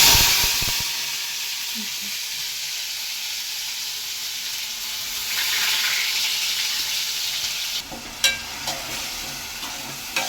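Oil heating in a pan on a stovetop, a loud steady sizzle and hiss that swells midway, followed by a few sharp clanks and spatters near the end.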